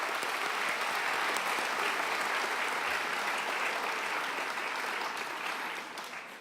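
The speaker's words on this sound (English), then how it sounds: "We want to give them a round of applause." An audience at a high school senior awards ceremony gives a full, steady round of applause for teachers and support staff, dense and continuous before tapering off in the final second.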